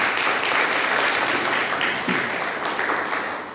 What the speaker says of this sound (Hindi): ताली मार के धन्यवाद करेंगे परमेश्वर को।